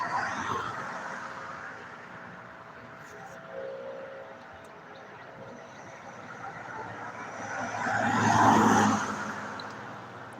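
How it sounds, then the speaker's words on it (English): A state patrol car drives past, its engine and tire noise swelling to a peak near the end over steady road rumble, with background noise throughout. "We've had one state patrol ride by."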